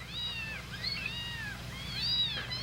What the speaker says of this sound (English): Newborn kittens, 4 of them.